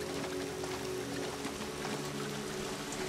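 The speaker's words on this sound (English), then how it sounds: "And it's raining again." Steady rain falls in the video game Ancestors: The Humankind Odyssey, a constant soft hiss with faint patter over a low background hum and no voices.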